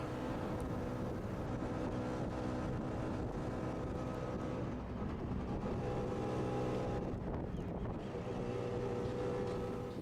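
Steady engine drone and road rumble from a coco taxi ride through Cuba, with wind buffeting throughout at a constant loud level and no voices.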